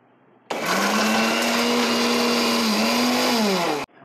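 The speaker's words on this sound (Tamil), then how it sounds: "அதை வந்து நம்ம ஒரு மிக்சி ஜாரில் மாற்றிக்கலாம். மாற்றிட்டு கொர கொரன்னு அரைச்சி எடுத்துருவோம்." A mixer grinder jar whirs loudly for about three seconds as it coarsely grinds cut bread pieces, starting and stopping abruptly, with a steady motor whine that dips briefly near the end.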